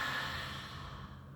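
A slow yoga exhale through the mouth during child's or downward dog pose, a soft airy breath that fades gently over about a second, close and quiet.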